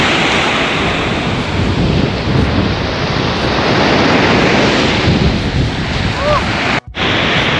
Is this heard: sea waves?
yes